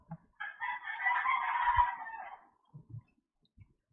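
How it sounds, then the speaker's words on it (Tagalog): A rooster crows once, a loud drawn-out call lasting about two seconds, with a few soft low clucks before and after in an otherwise quiet background. "pasensya na sa mga manok para may background music tayo"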